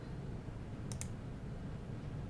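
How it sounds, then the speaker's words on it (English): A quick double click from a computer keyboard key, a brief crisp tap pair in the middle over a constant low room hum, with no one talking. "I'm going to hit delete on my keyboard"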